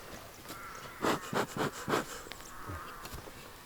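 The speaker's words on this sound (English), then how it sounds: "I know there's still bees in there." Honey bees in a hive buzz close by, several loud pulsing drones rising and falling in quick succession over a quieter, steady background hum.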